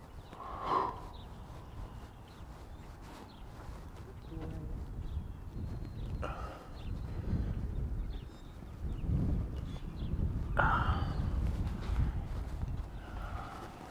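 A rescue horse shifts and snorts during a chiropractic adjustment, with soft, scattered hoof clops and a few breathy snorts close by under steady background noise.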